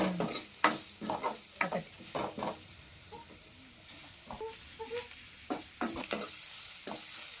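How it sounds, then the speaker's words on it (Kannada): Onions frying in a pan for tomato chutney, with a soft background sizzle broken by repeated sharp scraping strokes of a spoon stirring, near and clear, with quieter gaps in between and no talking. "ಇವಾಗ ನೋಡ್ರಿ ಈರುಳ್ಳಿ ಹಾಕಿನಿ, ಈರುಳ್ಳಿ ಕೂಡ ಫ್ರೈ ಆಗೈತಿ"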